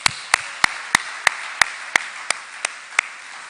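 Slow, evenly spaced single claps at a Rotary conference, about a dozen sharp hits in a steady rhythm over a hissy room background, close and fairly loud rather than a full crowd applause.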